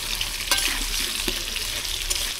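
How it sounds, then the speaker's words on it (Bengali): Potatoes for biryani frying in hot oil with salt give a steady, close sizzle and crackle throughout, with a few small pops and spatters and no voices. "লাল লাল করে আলু ভেজে নিছি"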